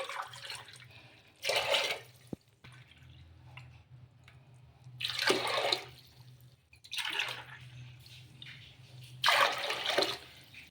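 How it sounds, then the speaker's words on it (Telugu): Water is poured in several separate bursts into a cooking pot, five cups in all, each splashy pour lasting about a second with quieter gaps between. "ఇప్పుడు మనం ఐదు కప్పుల నీళ్ళు అయితే వేసుకుందాం"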